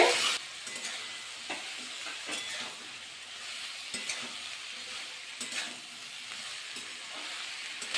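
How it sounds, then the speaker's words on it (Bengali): Vegetables and bitulI being stirred in a pan for pui bitulI chorchori, an even hissing fry with a spatula scraping and knocking at intervals, close and fairly quiet, with no voices. "এবার এর মধ্যে অ্যাড করে দেবো বিটুলি ভালো করে কিন্তু সব সবজিগুলো কিন্তু মিশিয়ে নিতে হবে"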